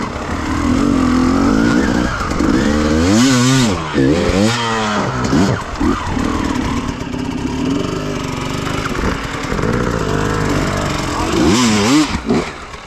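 A KTM TPI two-stroke motorcycle engine revs up and down while being ridden, with rising and falling pitch sweeps and loud, close, buzzy engine noise throughout.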